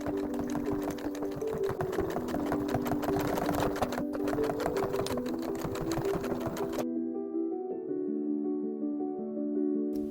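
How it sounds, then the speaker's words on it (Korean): Sewing machine stitching clear vinyl and fabric in a 2 mm seam while making a flat pouch, running as a steady close motor hum with rapid needle clatter that drops to a quieter, smoother whir for the last few seconds. "그리고 2mm 간격으로 재봉합니다."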